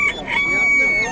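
A hen with chicks at a poultry market in Andijan clucks and chirps up close, while people talk in the busy background.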